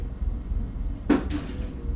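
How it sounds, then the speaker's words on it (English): A person bumps into a door, giving one sharp thump followed by a softer rattling knock, brief and a little distant against quiet room noise. "Sorry about that noise. Someone running into doors."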